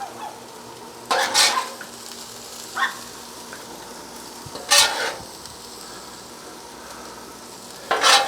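Shrimp stirred into a big pan already holding sausage and vegetables, giving a steady low sizzle with four separate bursts of scraping and stirring, fairly close, with no talking.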